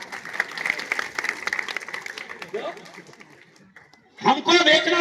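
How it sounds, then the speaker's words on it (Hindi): A crowd at a political rally claps in a dense wash of applause for several seconds, then it fades and a voice speaks loudly over the last moments. "बजाओ यहां तालियां।"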